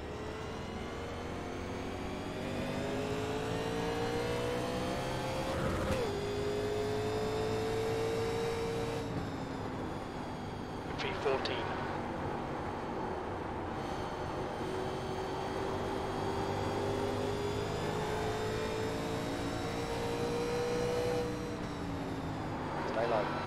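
Race cars in a NASCAR video game at Iowa Speedway hold a steady engine drone, with pitch sweeps rising and falling as the cars run in a pack and briefly shift gears. The sound is continuous and moderately loud.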